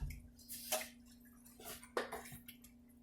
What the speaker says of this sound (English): It's bubbling away.